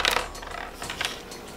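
Defense dice for Warhammer Underworlds tumbling and clattering on a tabletop, a quick cluster of rattling hard clicks that fades over about a second and a half.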